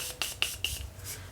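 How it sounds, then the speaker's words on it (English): Morphe setting mist sprayed onto a makeup sponge: three quick close hissing spritzes in an even rhythm, then a fainter fourth, over quiet room noise. "I just sprayed it with some continuing mist spray from Morphe"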